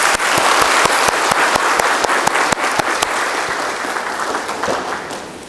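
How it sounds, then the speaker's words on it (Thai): Sustained applause from an audience at a Thai leadership lecture, dense and steady clapping that holds loud throughout before easing slightly at the end, with no talking over it. "ด้วยการปรบมือดังๆสักครั้งได้ไหมครับ"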